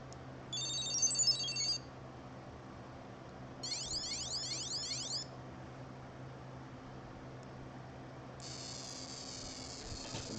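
An old electronic light and sound part from a Lego spaceship, powered at 3 volts, giving three short bursts of chirpy, warbling electronic tones over a steady fan hum.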